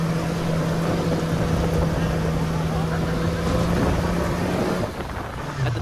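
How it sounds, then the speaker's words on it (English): Dune buggy driving over sand dunes in Peru, with a loud, steady engine drone and rushing wind buffeting the microphone for about five seconds before the noise dips briefly at the end. "One of these activities is riding a dune buggy."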